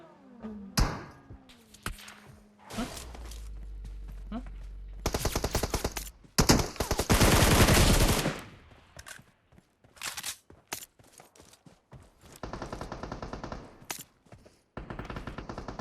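Gunfire rings out in PUBG Mobile: loud bursts of automatic fire and single shots crack in irregular clusters. Near blasts alternate with quieter stretches and distant rattling volleys.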